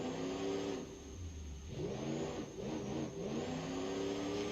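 A V8 diesel engine in the BeamNG.Drive driving game, fitted as an extreme diesel option, revs up and down repeatedly, its loud tone rising and falling in several pulls with no one talking.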